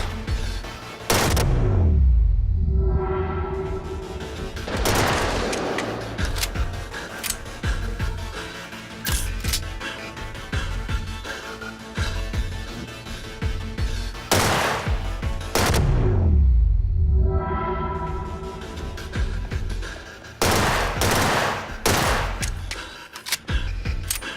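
A cannon fires repeatedly in the video game Get Even, with loud booming blasts around 1, 5, 16 and 21 seconds and continuous gunfire and game noise in between.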